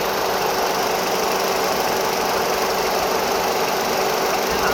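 Engine of a high-mileage Renault Samsung SM5 sedan with over 500,000 km, idling with the hood open; a steady, loud, close-up mechanical hum with constant whirring and no talk.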